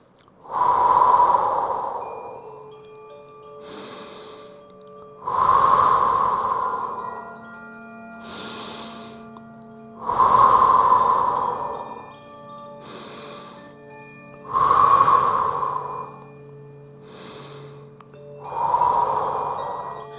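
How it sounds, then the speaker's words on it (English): Slow yoga breathing during a seated twist: five long, loud inhales through the nose alternate with softer exhales, evenly spaced every few seconds, close and alone with no talking. "Inhale through the nose, calming the system. Exhale."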